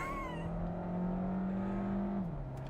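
Engine of a 2021 Volkswagen Tiguan 110TSI base model revving up under acceleration, a steady rising drone heard from inside the cabin, continuous for a few seconds before easing off.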